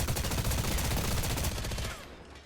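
Rapid automatic gunfire from an Apex Legends firefight, aimed at Rampart's deployable cover shield. Dense, loud bursts sound close and continuous for about two seconds, then trail off.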